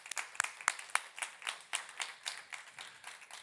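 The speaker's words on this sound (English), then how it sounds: "A round of applause." Audience at a Scandinavian business conference applauds a fashion industry expert taking the stage, a steady burst of many hands clapping with sharp individual claps standing out, close and fairly loud throughout.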